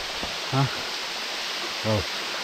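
Ermai waterfall pours over sharp rocks with a light flow of water, making a constant broad hiss, while two short voice sounds break in briefly.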